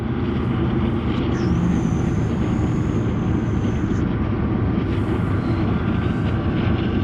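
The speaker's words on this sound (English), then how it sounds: "And we've got a train coming. I can hear it before I can see it." Coal train hauled by two locomotives passing below a snowy cliff, a distant, steady low rumble and drone with a faint high tone, heard from above without talk.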